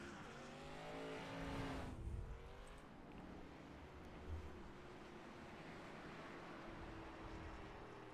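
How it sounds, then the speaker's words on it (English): Race cars circuit the Grand Prix of Texas track, one car weaving to warm its tires; a steady engine drone rises and falls with a louder surge near the start, then settles into a continuous mid-distance roar. "Nick Norris looks like he is just warming up his tires right now."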